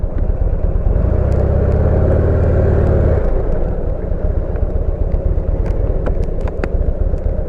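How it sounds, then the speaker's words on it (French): A car parking nearby, its engine rumbling steadily then easing off, heard alongside wind noise from a Buell motorcycle ride with a few sharp clicks toward the end. "Quelqu'un est en train de stationner."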